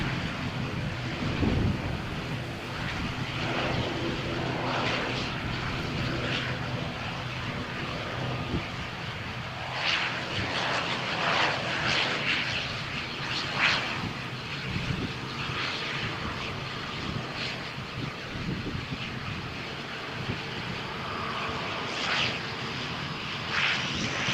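An airplane taking off on runway 13 at Malaga Airport on a stormy morning, its engines roaring and building steadily over wind noise on the microphone, heard from nearby.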